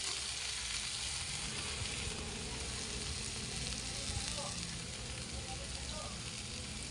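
String beans (sitaw) hit a hot frying pan for adobong sitaw, setting off a dense, continuous crackling sizzle that stays loud and even throughout.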